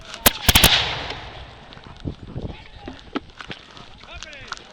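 Muskets fire in a Revolutionary War reenactment skirmish: three sharp, loud, close shots crack in quick succession, then scattered fainter pops and voices follow.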